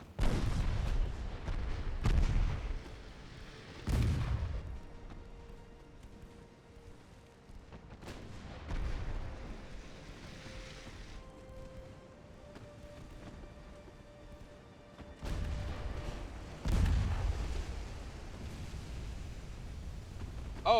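Naval 10-inch guns firing in the warship game Ultimate Admiral Dreadnoughts: repeated deep booming salvos, some close and loud and others more distant, spaced irregularly with rumbling tails between them, no talking.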